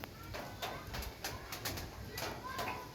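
Pigeons cooing repeatedly outside a house, soft rolling calls recurring at a steady pace over a constant background hiss, with a voice speaking now and then.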